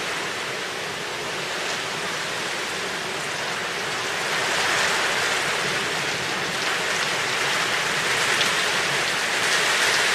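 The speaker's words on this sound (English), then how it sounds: "you'd just think it would just be normal rain" Steady rain falling in a dense hiss of drops, constant and fairly loud, swelling slightly partway through, with no voices.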